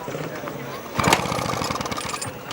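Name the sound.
vintage motorcycle engine being turned over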